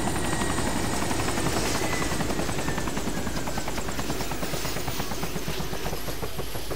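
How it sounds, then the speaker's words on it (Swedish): A helicopter in the video game DayZ runs steadily and loud throughout at night, its rotor chop and engine whine forming a continuous dense roar with no talk. "Vi har varsin helikopter."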